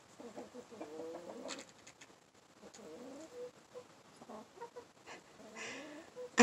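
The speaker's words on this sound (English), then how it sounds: "I just love watching my chickens." Several chickens cluck softly nearby in short, irregular bursts, with occasional scratching and rustling between calls.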